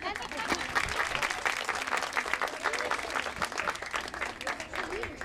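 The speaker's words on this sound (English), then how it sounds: "A big round of applause for her teacher," An audience applauds a teacher at a school talk on stories of endurance and survival; continuous clapping sounds fairly distant and soft, with murmured voices mixed in throughout.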